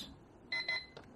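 An XREXS large WiFi-sync digital wall clock gives a few short electronic beeps as it is plugged in, two longer tones then a quick shorter one, clear and close in a quiet room.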